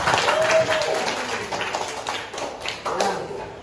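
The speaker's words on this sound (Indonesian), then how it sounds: "Beri aplaus yang mulia" A class of students claps together in a school room during a teaching practice lesson, a brief round of steady hand-clapping that fades under a teacher's voice.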